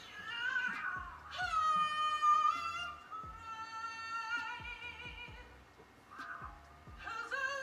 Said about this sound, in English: Did you see the cat?